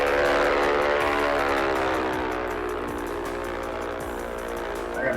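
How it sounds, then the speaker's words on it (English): Twin-engine Diamond DA62 propeller engines in the X-Plane 11 flight simulator, a steady droning hum with layered harmonic tones that shift slowly in pitch as they spool, loud and continuous with no talk. "You can hear the engine sound when they spool up,"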